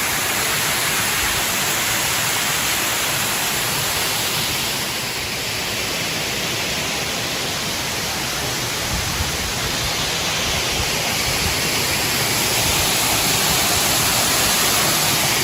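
Rani Duduma waterfall near Nandapur pours in a steady, dense roar of falling water that lasts the whole stretch and holds an even loudness, with no voices.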